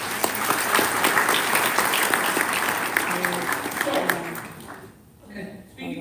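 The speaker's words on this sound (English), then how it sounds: "So let's give Scott Durfee a big round of applause" An audience at a live stock trading seminar breaks into loud, dense applause that holds for several seconds, then thins out and fades as a voice begins to speak.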